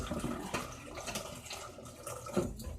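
Water running from a kitchen tap into a pot to soak it with soapy water, a steady, faint splashing and gurgling stream with occasional louder sloshes.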